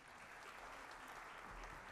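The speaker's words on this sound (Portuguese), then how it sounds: "Uma salva de palmas, né," Audience applause at a formal solemn session in Brazil's legislature where the Rosa Negra medal was instituted, a dense continuous clapping heard faintly throughout without pauses.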